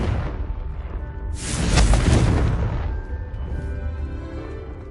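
A Confringo fire spell exploding in Hogwarts Legacy, with a single deep, loud booming blast that swells and rolls off over a couple of seconds amid game ambience.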